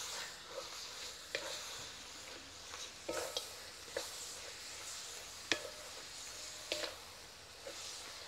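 Mutton and fenugreek curry with a little yogurt being stirred in a pan, a soft sizzle underneath and irregular scraping knocks of the spoon against the pot, close and quiet.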